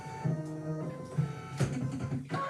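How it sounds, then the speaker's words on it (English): A Brother V5LE sewing and embroidery machine stitches a design, giving a steady mechanical whir with rapid needle clatter and a few louder thumps. It runs close and alone, with no talk. "So the total stitch time for this design is 17 minutes and we're on 15, so there's only a couple of more minutes to go."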